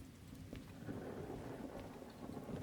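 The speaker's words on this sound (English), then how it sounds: "It is a thunderstorm out here." A thunderstorm in a train shunting video game: steady, dense rain hiss over a low rolling rumble of thunder, continuous throughout, with faint droplet ticks and no voices.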